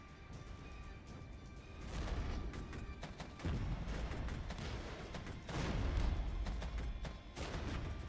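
Mortar rounds landing in the Regiments: Winds of Change strategy game, dull booms and blasts arriving in rolling waves through a continuous battlefield din, with heavier surges partway through.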